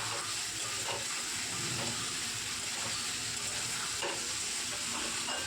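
Mushroom with spices frying in a pan while being stirred, a dense continuous sizzle with recurring soft scraping strokes, close and fairly steady, no talking.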